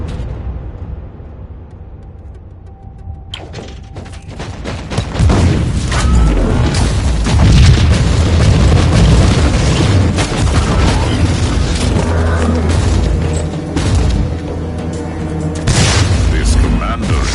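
Heavy booming blasts from grenades and battlefield explosions in a Warhammer 40k video game, loud and continuous after a quieter opening, with rumbling low-end impacts and bursts layered over game voices.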